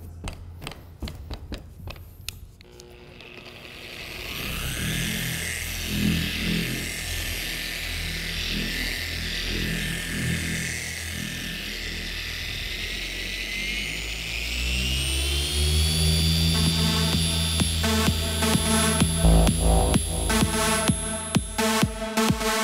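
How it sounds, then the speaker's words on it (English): Dual-action car polisher buffing automotive paint with a white pad and V38 polish, a steady whirring drone that rises in pitch and intensity partway through and runs continuously without talk. "I'm gonna tape half again of this side and then polish that with white pad and V38"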